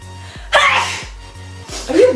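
A single sharp human sneeze bursts out loudly, followed by a smaller second burst, over a faint repeating low musical background.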